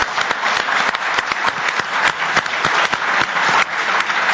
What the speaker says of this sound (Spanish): un aplauso muy fuerte para ti